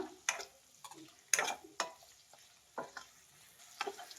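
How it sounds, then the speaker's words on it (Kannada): Paneer cubes fry in a pan over medium heat, with a faint background sizzle broken by a series of sharp clicks and scrapes from stirring at irregular intervals, close and without talk. "ಒಂದು 3 ನಿಮಿಷ ಚೆನ್ನಾಗಿ ಪನ್ನೀರ್ನ ಫ್ರೈ ಮಾಡಿದ್ದೀನಿ, ಸಾಕು."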